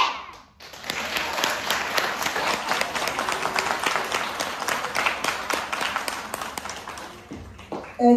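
Sustained audience applause with dense clapping, fairly loud and steady for several seconds, at a children's school celebration of letters, fading briefly near the end.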